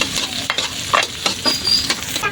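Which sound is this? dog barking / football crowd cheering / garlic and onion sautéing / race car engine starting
garlic and onion sautéing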